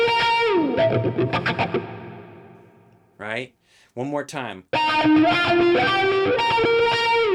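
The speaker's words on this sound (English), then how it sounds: "now we're going to skip ahead to the wah lead guitar that comes in" Wah-effected distorted electric guitar plays octave lead lines, sustained notes and sliding bends broken by a brief pause and a few spoken words before the guitar returns.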